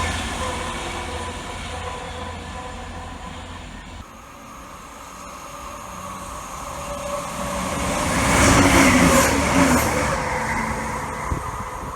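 A Chiltern Railways train rumbles steadily at a station, with the low roar and hiss swelling louder partway through before easing off again.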